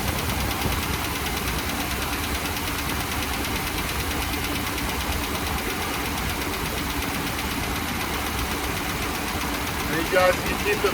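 A car engine idling steadily after an oil change, a constant low rumble with faint rapid ticking, a short louder bump near the end.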